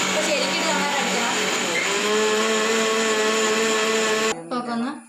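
An electric blender grinds an avocado shake with milk in a steady, loud whir for about four seconds under a talking voice, then cuts off abruptly, leaving only a short stretch of speech.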